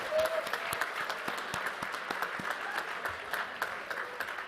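An audience at a 2022 graduate school commencement ceremony applauds the graduates with a sustained patter of many hands clapping, moderately loud and even, with a brief tone at the start.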